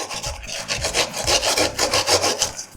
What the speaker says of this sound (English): Now let me just clear the edge. So let's trim some excess.